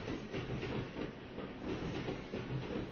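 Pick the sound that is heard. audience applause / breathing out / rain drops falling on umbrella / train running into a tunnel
train running into a tunnel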